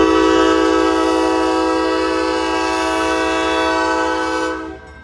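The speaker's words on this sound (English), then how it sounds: "we have Norfolk Southern 4433 leading an empty coal train as it departs West Yard in Madisonville, Kentucky on the Paducah and Louisville Railway" Norfolk Southern 4433 leading an empty coal train departs West Yard in Madisonville, Kentucky, on the Paducah and Louisville Railway, sounding a loud, sustained multi-tone horn blast that holds steady for several seconds before cutting off.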